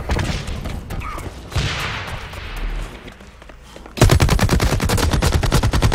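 Rapid automatic gunfire in a competitive shooter match, sporadic bursts at first, then a loud sustained stream of evenly spaced shots near the end.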